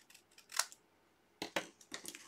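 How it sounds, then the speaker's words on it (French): Scissors snipping paper card while a decorative greeting card is made, three or four crisp, close cuts in short bursts separated by quiet pauses. "Un petit coup de ciseau."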